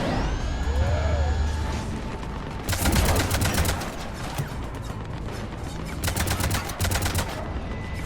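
In the video game Mass Effect 3, rapid cannon fire sounds in loud, fast-repeating volleys with short breaks between bursts, set against a dense, constant background of battle noise.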